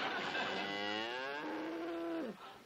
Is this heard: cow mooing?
yes